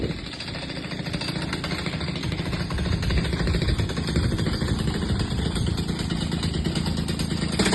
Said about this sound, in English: He is drilling the concrete to secure the steel reinforcement pipes.